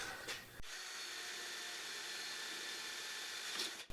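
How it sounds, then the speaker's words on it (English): A power drill whines steadily through a rivet hole in an Eames floor lamp for several seconds after a brief clatter, close and fairly loud, with no talking. "drill for the other rivet"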